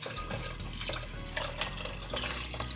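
Hot water, about 1.3 litres, poured over soaked lentils in a pot, a loud, continuous close splashing pour with bubbling liquid throughout.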